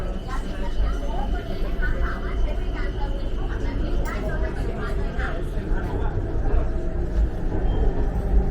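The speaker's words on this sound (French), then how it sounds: "Le métro aérien." A BTS Skytrain elevated metro in Bangkok rumbles steadily with a constant low hum and motor whine, close and loud, under a murmur of passengers and someone talking.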